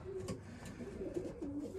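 Pigeons cooing inside a pigeon loft, soft repeated throaty coos overlapping at close range against a low background murmur, with no talk.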